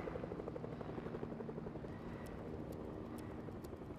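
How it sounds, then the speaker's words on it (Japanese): Helicopter flying overhead in the Fortnite battle royale game, a steady whirring rotor drone held at moderate loudness throughout, mixed with busy game sound effects and no voices. "あ、ヘリが飛んでる。"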